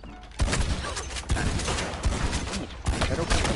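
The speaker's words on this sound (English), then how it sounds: "I shot you with a shotgun!" Shotgun blasts in the Western online game Red Dead Online, several sharp, heavy booms spaced irregularly with reverberant tails, up close and loud.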